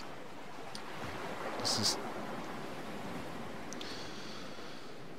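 In a video game, a boat's water rushes steadily with a low engine drone, and a voice speaks briefly over it.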